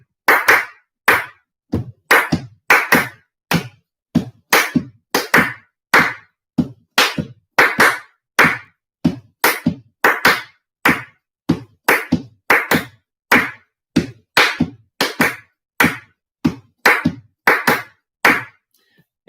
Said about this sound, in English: if we were to just clap it out.